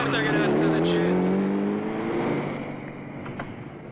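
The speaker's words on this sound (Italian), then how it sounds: "Quella deve essere la macchina dei rapinatori." A getaway car in a 1976 Italian crime film roars past at speed, loud at first as the engine revs and then fading into the distance. Speech can be heard faintly underneath.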